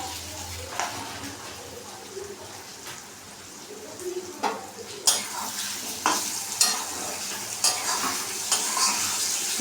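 Spices and tomato sauce fry in a pan for a banana-flower kofta curry, with steady sizzling and repeated scraping stir strokes that grow louder toward the end, close up with no talking.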